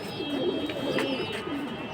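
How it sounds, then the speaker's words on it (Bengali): Pigeons coo steadily at a busy pigeon market selling high-flying breeds, their low, rolling calls overlapping continuously at close range over a constant background murmur. "খুব সুন্দর কবুতর"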